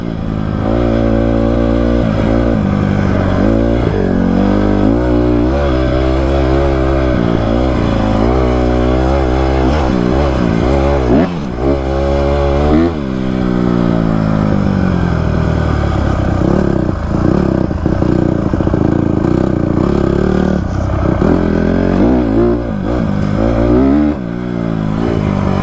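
A 2024 Honda CRF250F dirt bike on a hot desert ride, its engine revving hard and loud with rising and falling pitch sweeps, close and continuous, with clattering gear changes between pulls.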